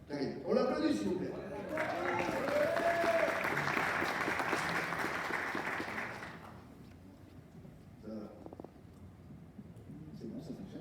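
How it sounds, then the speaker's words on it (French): Audience applause at a stage talk, a dense burst of clapping that rises over a speaking voice, holds for a few seconds and drops away abruptly, followed by quieter talk. "On l'applaudit, s'il vous plaît."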